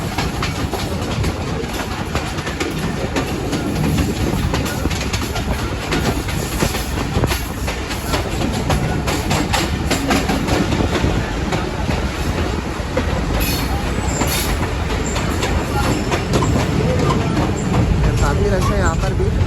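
A passenger train pulls into Haranpur Junction, its wheels rumbling and clattering loudly and continuously, with occasional higher squeals and bangs over the din and a voice talking beneath it.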